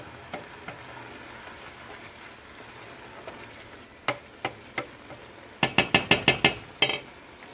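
Vegetables softening in a pot for gumbo, a low steady sizzle under sharp clacks of a spoon stirring against the pot, the knocks coming in a quick rhythmic run near the end.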